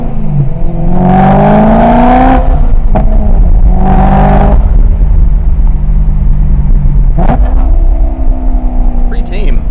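A BMW M3 with a BPM Sport burble tune drives with its engine audibly rising and falling through several revs, a steady road rumble underneath and a few faint pops, heard from inside the car without talk.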